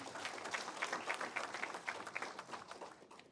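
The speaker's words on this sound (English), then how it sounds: "Can we give him a round of applause again?" A room of officials at a municipal induction workshop gives the minister a round of applause, a faint, steady patter of many hands clapping together for about three seconds.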